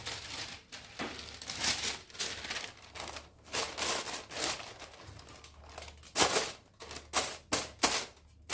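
Aluminium foil being pierced with holes while preparing Yemeni smoked chicken mandi: a quick series of sharp crinkly pops and taps, irregular at first, then several distinct punctures near the end, close and fairly quiet.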